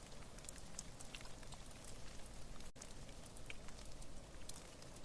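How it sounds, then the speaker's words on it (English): Mellow rain falls on tundra moss beside a lava cave, a soft, even hiss of countless tiny drops pattering steadily and close with no voices. "get the sound of this mellow rain on the tundra moss"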